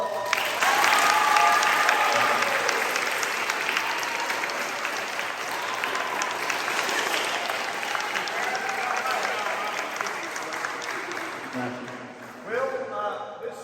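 Audience applause fills a sports awards banquet hall as a spirit belt is presented, a dense steady clapping that holds loud for about eleven seconds before thinning out, with a few voices coming through near the end.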